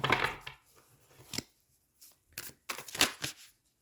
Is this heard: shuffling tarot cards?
yes